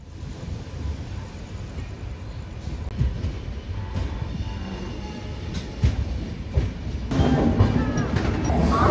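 An express train (Kakinada Town–Lingampalli Special) rolls off after getting the signal, a steady rumble with wheel clatter that swells louder near the end, heard from inside a carriage.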